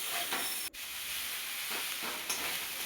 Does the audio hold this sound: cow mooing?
no